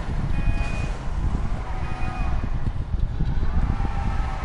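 A car engine in GTA 5 roars steadily under throttle while drifting, with continuous loud motor drone and faint tire and wind noise throughout.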